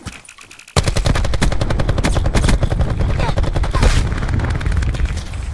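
Another player's gunfire in Call of Duty: Black Ops 4 Blackout, loud rapid automatic bursts beginning abruptly after a short quiet moment and continuing steadily to the end.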